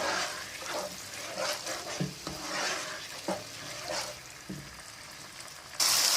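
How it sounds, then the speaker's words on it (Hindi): Spices roasting in a pan for Mughlai chicken changezi, a moderate sizzle with intermittent stirring and utensil knocks against the pan. "ये देखें, ये हमारे मसाले भूनते हैं"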